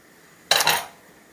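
A metal lid is set onto a cooking pot on the stove in a home kitchen, giving one quick, close clatter with a short double clink that fades fast into quiet.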